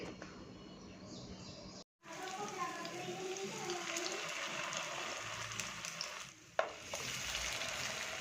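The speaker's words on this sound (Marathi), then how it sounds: "आता थोडंसं ऑइल घालून आपण सुरमई तव्यामध्ये फ्राय करून घेणार आहोत शॅडो फ्राय करून घ्यायचे" Surmai fish coated in green masala shallow-frying in oil on a flat pan, with a steady loud sizzle and crackle that stops briefly twice, close by.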